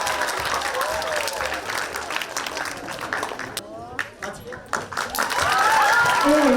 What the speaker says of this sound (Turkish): Ben temiz oyunu için kocaman alkışlarla sahneye izlemenizi